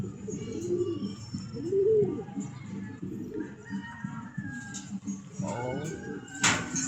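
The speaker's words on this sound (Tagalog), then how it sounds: "Ayan, oh. Isang kalapatid." Pigeons cooing nearby in a rooftop loft setting, several soft rolling coos in a row, followed near the end by a brief burst of wing flapping as a bird takes off; someone talks faintly in the background.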